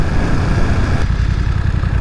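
A motorcycle engine running loud and steady during a test ride, a continuous close drone with wind rush and no speech.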